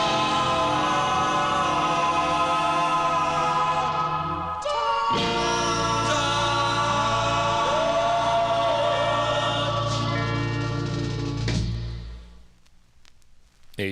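Late-1950s doo-wop record playing continuously with sustained vocal harmonies over backing music, then fading out at the end.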